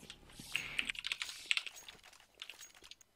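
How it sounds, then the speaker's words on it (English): Rapid computer keyboard typing picked up by a player's microphone during a competitive Counter-Strike match on the Mirage map: dense, close clicks and clacks in quick irregular bursts with brief pauses, no talking. "we can hear a lot of keyboard sounds instead of in game sound"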